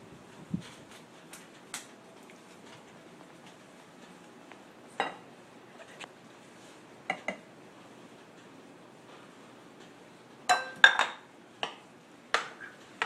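A spoon scrapes and clinks against a pot while roux is stirred into turkey pot pie filling, with scattered soft taps early and a cluster of sharper clinks near the end, fairly quiet overall.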